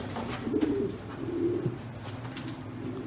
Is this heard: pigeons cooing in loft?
yes